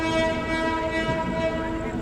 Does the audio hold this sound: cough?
no